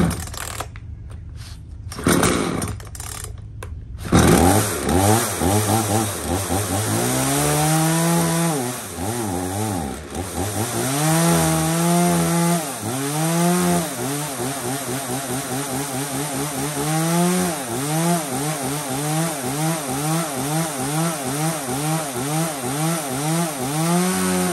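A 34cc Japanese chainsaw with a 38mm cylinder starts after a few sputtering pulls, then runs loud and close, its two-stroke engine revving up and down repeatedly with no talk over it.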